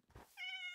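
A single cat meows once, fairly close and clear, after a brief muffled rustle at the start, with no talking over it.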